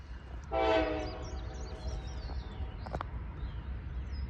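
Norfolk Southern freight train NS 179 approaching through a rail work zone, a brief distant horn blast followed by a low steady rumble, with birds chirping over the outdoor ambience.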